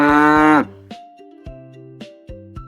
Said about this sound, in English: A cow says, moo,